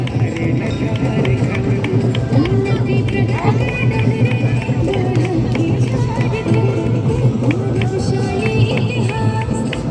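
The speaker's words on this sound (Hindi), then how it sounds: "तालियों की गड़गड़ाहट होती रहनी चाहिए।" Dense, continuous applause from the crowd at a Republic Day parade with a Jharkhand tableau, loud and unbroken with babble and a voice mixed in.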